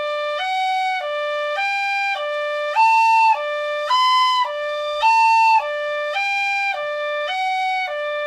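A tin whistle plays a clear, smooth series of alternating high and low notes in an even rhythm, slurred together, alone and fairly loud.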